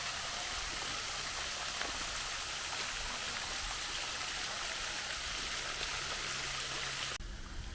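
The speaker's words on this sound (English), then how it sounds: "you've got two dolphins facing downwards, spurting water out of the mouth." Water streams from the mouths of two downward-facing dolphin statues at a stately home's garden fountain. It makes a loud, continuous hiss and splash like heavy rain that runs without a break and cuts off sharply near the end.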